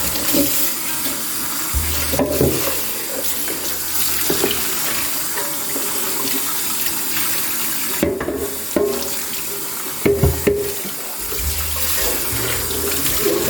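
Running tap water splashes steadily as an air fryer basket is scrubbed clean in a sink, with a few louder bursts and knocks as the basket shifts under the stream.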